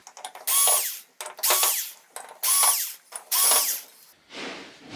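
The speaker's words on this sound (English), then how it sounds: "we are going to need to get these 4 screws out just so we can even see what's underneath" A power driver removes screws from the back plate of a Samsung UN60FH6003 TV in four loud, close, whirring bursts separated by short pauses, followed by a softer rattle.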